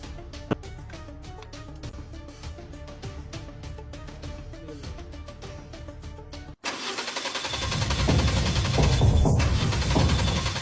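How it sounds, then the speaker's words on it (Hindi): Music plays for several seconds, then cuts out as a car engine cranks and struggles to catch, failing to start, its low churning rumble swelling louder and close by until the end. "अरे यार ये गाड़ी स्टार्ट क्यों नहीं हो रही अब?"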